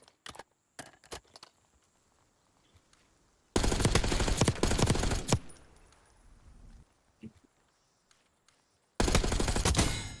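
Gunfight in Black Ops 6 ranked play: a few scattered single shots, then long loud bursts of automatic gunfire with brief gaps, and another sustained burst at the end, no voices.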